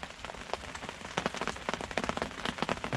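Steady rain pattering on a surface, with irregular drips and taps close by, no voices.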